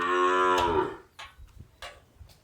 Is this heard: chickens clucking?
no